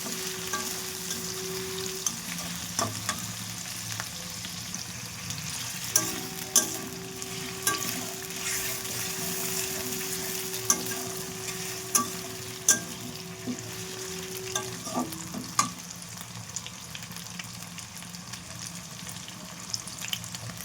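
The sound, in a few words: frying food in a pan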